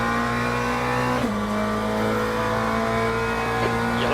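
GT race car engine held on steady throttle in Le Mans Ultimate, a continuous loud, strongly tonal drone with a brief shift blip around the first second, with no talk.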